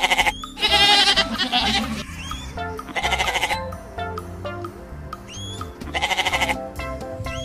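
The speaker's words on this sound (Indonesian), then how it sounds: "Di sini ada satu ekor kambing Jawa" A Javanese goat bleats repeatedly in loud, wavering, nasal cries, separated by short pauses, close and clear with no talking.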